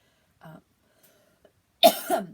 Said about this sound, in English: can't edit those coughs out